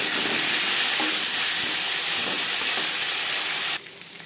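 Potatoes frying in hot oil with panch phoron and bay leaf produce a loud, dense, steady sizzle that cuts off abruptly near the end, leaving only a faint residual hiss.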